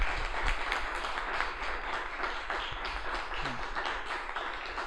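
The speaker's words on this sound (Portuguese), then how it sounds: "Vamos aplaudir o Jefferson" Audience applause for author Jeferson Tenório at the close of a Quinta Literária literary evening: steady, dense clapping that holds for the whole stretch without a break.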